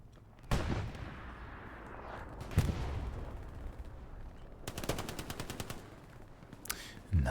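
Bursts of automatic gunfire and heavy shots from the Hell Let Loose WWII shooter on the Kharkov map, several loud volleys with rapid rattling strings and a booming blast near the end, no talking.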